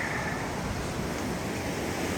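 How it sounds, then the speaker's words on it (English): The McKenzie River rages past in a dense, constant roar of rushing water, loud and close, with no voices or other sounds breaking through. "See the raging river."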